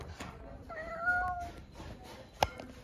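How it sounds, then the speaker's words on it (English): A cat at a Christmas party gives a single short, faint meow amid quiet room noise, followed by a sharp brief click. "Oh, kitty cat."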